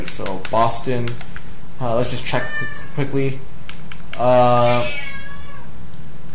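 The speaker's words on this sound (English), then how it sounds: "that was my cat." A house cat meows several times in short calls of varying length, close by, mixed with computer keyboard typing while someone talks during an NHL 13 hockey video game session.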